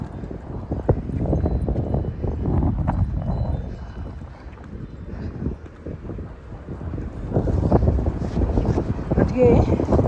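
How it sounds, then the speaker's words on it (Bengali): Strong cold wind at minus four degrees buffets the microphone on an uphill street lined with old houses, a loud continuous rumbling roar that swells and eases, with brief faint sounds mixed in. "আজকে প্রচণ্ড হাওয়া দিচ্ছে, -4 ডিগ্রি টেম্পারেচার।"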